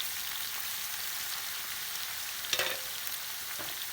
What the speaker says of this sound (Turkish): Bu ta taşta kavurma ediyor. Kızartma da güzel oluyor.